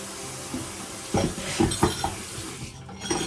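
Dishes rinsed under a running kitchen tap, a steady wash of water with a few close clinks and knocks of crockery partway through.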